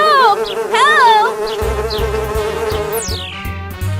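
Cartoon bee swarm buzzing loudly and steadily, with wavering whiny tones over a low rhythmic drone and a descending whistle near the end.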